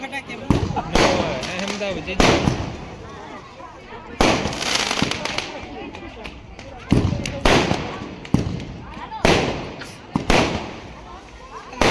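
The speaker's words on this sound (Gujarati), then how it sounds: "લેવરો લેવરો ફટાકડા ફૂટી ફૂટવા માંડી ગયા" A rapid series of firecrackers bangs and crackles close by at a wedding, bursts coming irregularly one after another, with people talking in the background.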